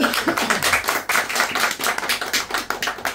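A church congregation applauds, dense continuous clapping from many hands that fills the room at close range for the whole stretch.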